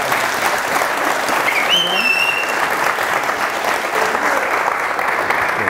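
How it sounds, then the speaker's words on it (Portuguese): Audience applause at a Pecha Kucha Night presentation event in Curitiba, a steady dense wash of clapping from a crowd sustained throughout, with a brief whistle or cheer near the middle. "Palmas para Marcos Araújo"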